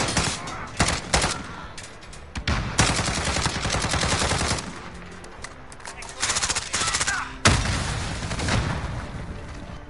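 Rapid bursts of AS VAL gunfire hip-fired in Call of Duty Modern Warfare hardcore mode, loud and close, with dense rattling volleys broken by short pauses and a voice talking over parts of it.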